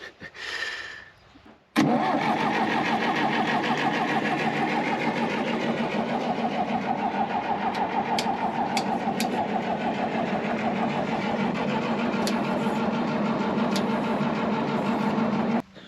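An old John Deere bulldozer engine, low on compression, cranks briefly and then catches, running loud and steady with a rough, knocking idle that continues close by without any talk.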